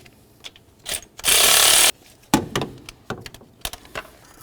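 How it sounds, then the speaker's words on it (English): A hand ratchet removes a nut on a Chevy C/K truck's intake, with a loud, close, sustained burst of rapid clicking flanked by brief metallic taps and clanks. "Now the next thing I'm going to do is take off this nut right here."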